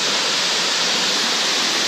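Waterfall at Ricketts Glen pours in a dense, continuous hiss of rushing water, loud and close with no breaks or voices.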